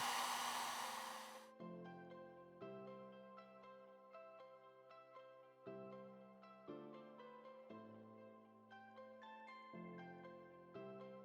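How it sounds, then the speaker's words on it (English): A heat gun blows hot air onto a ring blank to melt solder for costume jewelry, a steady rushing hiss lasting about a second and a half. Soft music plays on alone after it. "you'll need your heat gun. And simply apply heat and apply the solder to the ring blank"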